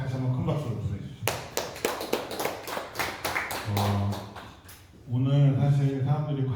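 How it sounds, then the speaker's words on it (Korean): Audience applause at a monthly lecture gathering on governance and democracy, following the chairman's congratulatory address: a short run of scattered claps, fairly close, sitting between stretches of someone talking. "우리 이사장님께서 축사하셨다고 다시 한번 큰 박수를 보내주시죠"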